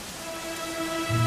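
Steady rainfall in Dragon Quest 11, a dense even hiss of drops with a faint low tone underneath, brief and constant.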